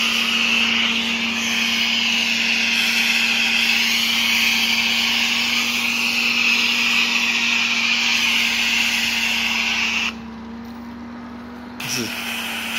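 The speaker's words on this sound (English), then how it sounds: "applying it with a special sprayer" A sprayer applying a lemon-scented soft wash cleaning agent to house siding gives a steady loud motorized hiss and whine with a constant hum, then drops abruptly to a quieter drone near the end.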